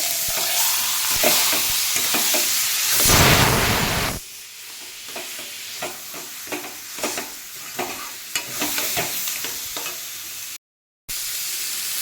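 Boiled olives, already fried with dried chillies and turmeric, are stirred in hot oil in a wok for a sweet-sour pickle: a loud hiss as they go in, then a steady sizzle with repeated spatula scrapes, no talking.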